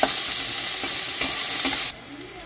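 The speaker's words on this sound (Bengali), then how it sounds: "পেঁয়াজ কুচিগুলো দিয়ে দিয়েছি, দিয়ে এবার একটু নাড়িয়ে নেবো" Chopped onions are stirred as they fry in a pan, giving a steady close sizzle broken by a few scraping strokes of the spoon before the hiss drops off abruptly.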